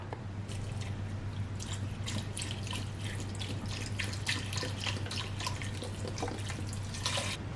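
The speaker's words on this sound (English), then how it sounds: "now I'm going to fill this up with water" Tap water runs into a soup pot while vegetable beef soup is being prepared, a steady close stream with irregular splashing and dripping over a low hum, with no talking.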